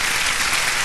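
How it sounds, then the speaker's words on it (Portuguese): Audience applause fills a Brazilian TV variety-show studio, a steady dense wash of clapping from the crowd, loud and continuous through the brief moment with no talking. "com esse aplauso da galera"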